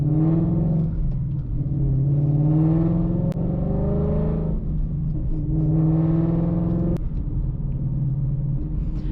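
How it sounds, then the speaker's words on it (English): A 2021 Ford Mustang Mach 1 V8 rumbling through two deep rev swells, a low throaty drone rising and falling, heard close and loud without any voices. "special sound that the Mach 1 makes, I think is like super cool"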